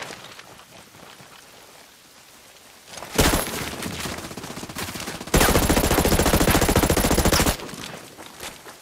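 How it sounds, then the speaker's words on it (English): Dense, loud bursts of automatic gunfire and rapid shots from a Ghost Recon Breakpoint match, coming in two long sustained volleys after a quieter stretch, then easing off at the end. "I hear gunfire"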